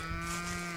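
A cow lets out a low, sustained moo on a farm, a steady harmonic drone heard fairly close and alone for under a second.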